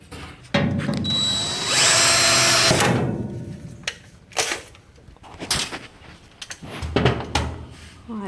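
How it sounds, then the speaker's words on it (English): A power drill whirs in a sustained run while pre-drilling a screw hole during a 1966 Ford Bronco restoration, followed by short knocks and handling clatter near the microphone. "I'm gonna go ahead and get this hole pre-drilled so it makes it a little easier"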